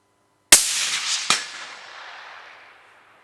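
A rifle fitted with a night vision scope fires one loud, sharp shot at a small steel popper target 200 yards away, followed by a faint second crack and a long fading echo.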